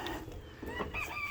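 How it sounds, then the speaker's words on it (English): A neighbor's small rooster crows in the morning, a single clear, fairly close cock-a-doodle-doo with a rising and falling harmonic call. "little rooster"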